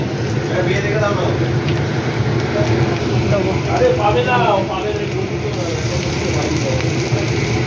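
Onions frying in about a spoonful of mustard oil in a pan, a steady close sizzle and crackle running throughout with voices talking over it.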